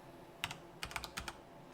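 Quick keystrokes on a computer keyboard, a short uneven burst of about seven or eight close, crisp clicks in two small clusters over a quiet room.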